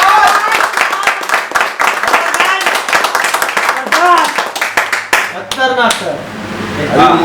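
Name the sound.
audience clapping at a motivational seminar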